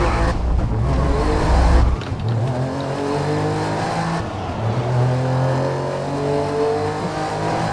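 A race car in a racing video game, a Nissan among the cars, revs hard and accelerates, its engine pitch climbing in repeated loud sweeps with a short squeal, and no talk over it.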